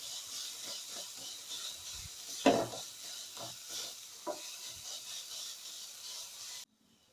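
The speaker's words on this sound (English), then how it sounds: "Once they are fried, mash these onions well." Fried onions mashed in a pan for egg keema, giving a steady low sizzle with scraping and stirring strokes, including one sharper knock midway, before the sound cuts off near the end.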